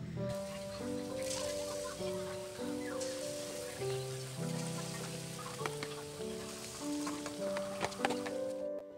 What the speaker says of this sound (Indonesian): Jadi di sini pas di saat lagi ngegoreng si empal jagung